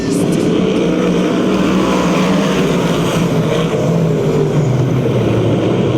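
Sprint car engines roar together at the Perris, California oval as a USAC/CRA field takes a restart off turn four, a dense, steady, loud engine drone holding for the whole stretch with no one speaking.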